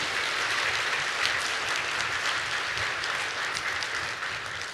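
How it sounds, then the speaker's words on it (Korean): A church congregation applauds during a worship service: a dense, even burst of clapping from many people that lasts a few seconds, with no voice over it. "우리 박수로 한번 격려해 주시죠."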